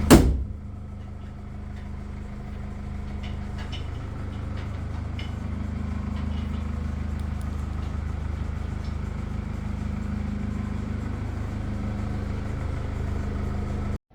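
A Mercedes E-Class OM654 diesel engine idles after a camshaft repair, giving a steady, even low hum that runs unbroken from just after a brief opening knock until it cuts off at the end.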